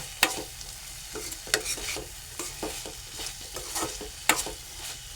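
Stuffed ridge gourd with masala is stir-fried in a pan, with sharp spatula scrapes and clatters at an irregular rhythm over a soft, close sizzle, and no talk.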